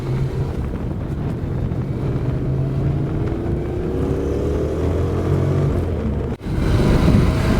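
A Honda NC750X motorcycle engine runs steadily with a soft, throaty drone, wind buffeting the microphone throughout, with a brief dip near the end before the rumble resumes.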